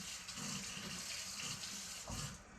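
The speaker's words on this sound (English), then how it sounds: "I'm gonna wash my garlic spoon." A garlic spoon is rinsed under a running kitchen tap, the water splashing close and steady for a couple of seconds.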